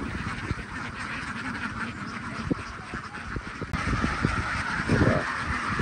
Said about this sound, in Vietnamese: Đây là ông chú bắt đầu mở cửa ra cho vịt nó đi ra ngoài ăn.